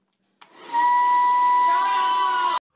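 A hair dryer switches on and runs with a steady, loud whirring hum for about two seconds before cutting off abruptly.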